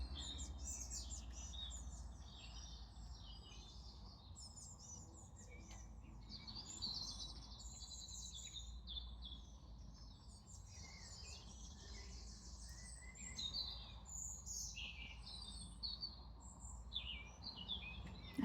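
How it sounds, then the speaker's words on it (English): Many birds chirping and singing outdoors in the morning, a steady layered chorus of bright tweets over a constant low hum, no talking. "I love the birds."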